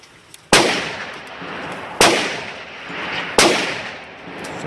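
Three sharp handgun shots fired with cheap steel-cased ammunition, a Hi-Point .45 or Kimber Custom Crimson Carry II, each loud crack followed by a long echoing decay, spaced about a second and a half apart outdoors.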